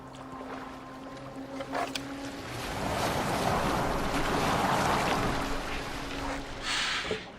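Viking longboat gliding over water in Assassin's Creed Valhalla, with a steady rushing wash of water and wind that swells in the middle, plus a few wooden creaks and splashes.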